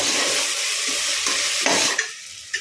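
Green chillies and tomato sautéing in a pan for vada curry, a loud dense sizzle with stirring scrapes and a couple of light taps as it settles.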